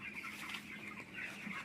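Young chickens, about 12–13 days old, clucking and chirping faintly in a poultry shed, a soft continuous murmur of bird calls with no voices.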